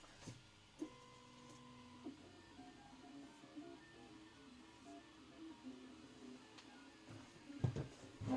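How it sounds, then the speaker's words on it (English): A 3D printer running a print hums steadily in a quiet room, its stepper motors whining in shifting tones, with faint clicks and a couple of louder knocks near the end. "Print is underway."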